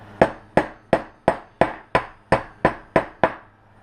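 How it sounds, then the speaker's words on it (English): Ten evenly spaced, sharp metallic hammer taps as a wheel bearing is driven into a Raptor 700 ATV front hub, each strike ringing briefly and decaying before the next, close and distinct with no talk. "And slowly tap it in. Try and make sure it's even as you tap it,"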